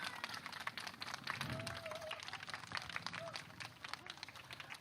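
Audience applause at a Korean campaign launch ceremony, a dense, steady patter of clapping lasting throughout, fairly faint and mixed with a voice speaking.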